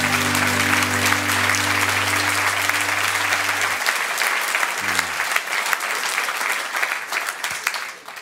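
A live comedy-show audience claps loudly and steadily in a dense, sustained burst of applause. A low sustained tone at the start stops about midway, and the clapping carries on to the end.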